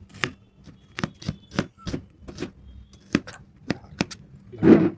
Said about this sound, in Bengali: এক কিলো মাংসের সাথে পরিমাণ মতো পেঁয়াজ কেটে নিচ্ছি